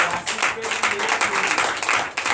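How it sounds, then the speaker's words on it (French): A congregation at a Sunday church service claps and cheers in a short, busy burst of applause at moderate volume, with scattered voices mixed in. "Nous donnons l'acclamation à Jésus."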